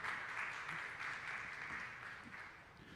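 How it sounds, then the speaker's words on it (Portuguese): Audience applause at a panel discussion on the Amazon, a soft, steady wash of clapping heard from a distance that fades slightly toward the end. "Uma salva de palmas."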